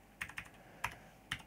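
Keys clack on a computer keyboard in a quiet room: four distinct, fairly soft keystrokes, two quick ones then two spaced apart, with no voices.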